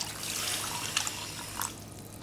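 Water poured into a pot of Trinidad-style curry duck with coconut milk, a soft, close splash and trickle with a couple of brief drips, fairly quiet and alone.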